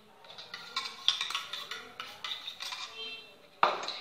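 A whisk clinks and scrapes rapidly against a bowl while mixing a potato perkedel mixture, a steady metallic rattle with one sharper knock near the end.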